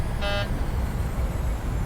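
A short electronic cockpit warning tone sounds once near the start in a PMDG 737-800 in Microsoft Flight Simulator 2020, a brief buzzy beep over steady engine-like rumble that continues afterward.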